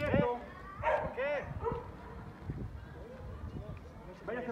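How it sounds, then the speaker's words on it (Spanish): A 12-month-old Dutch Shepherd barks in short bursts during bite-work training, the barks sharp and close over a noisy outdoor background while someone talks and shouts commands throughout. "Ya me mordió su perro, señor, agárrenlo."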